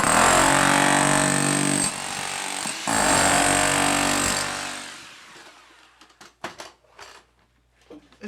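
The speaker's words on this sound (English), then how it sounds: "Now this here is just a little tiny chipping hammer." A small chipping hammer rattles loudly and steadily against basement concrete for several seconds, then cuts out, leaving scattered knocks and debris clatter.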